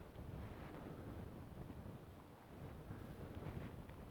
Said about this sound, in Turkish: Muhteşem bir rüzgar var. Mikrofonla konuşuyorum ama inşallah sesim anlaşılıyordur.